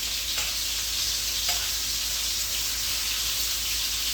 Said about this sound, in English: I just want to sear the meat